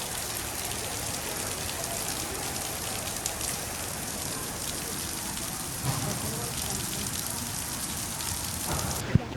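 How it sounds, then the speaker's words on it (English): Steady heavy rain pours down outside a church in San Juan, a dense continuous hiss of drops on surfaces that stays even throughout, with a few faint knocks and no one speaking. "It's really raining"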